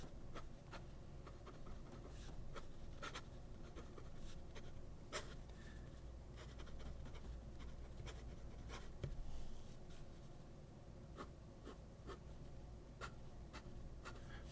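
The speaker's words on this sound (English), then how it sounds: "This pen is kind of skipping on me here." A PenBBS 556 fountain pen nib scratching across paper while skipping, a faint close scratch with light irregular ticks over a steady low background hum.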